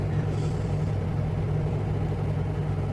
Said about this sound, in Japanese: エンジンかかりっぱなし。